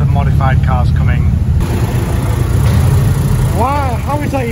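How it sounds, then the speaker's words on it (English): Modified cars leaving a car show in pouring rain, engine rumble and tire noise passing close by while people talk over the traffic. "there is a lot of modified cars coming"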